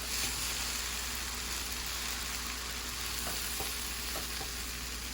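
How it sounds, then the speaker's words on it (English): Vegetables and beans, including carrots and zucchini, fry with rotini pasta in a pan, giving a continuous, even sizzle close by, with faint stirring scrapes and no voices. "Now let's add all the yummy vegetable and beans to it."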